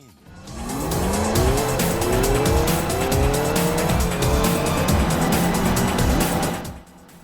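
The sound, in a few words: kart racing cars, Sonic and All-Stars Racing Transformed video game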